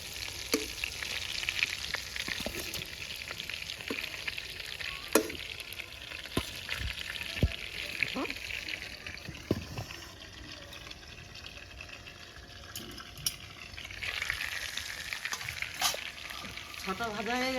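Giant freshwater prawns fry in a wok with a steady broadband sizzle, broken by sharp spatters and pops, scraping stirs and a brief watery splash, close and fairly loud throughout with no talk.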